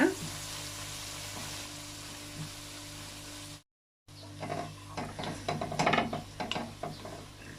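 Mint leaves sautéing in a pan for pudina rice give a steady close sizzle and frying hiss with a few clatters from stirring. A short dropout of silence splits the sound, after which scraping and stirring noises grow busier.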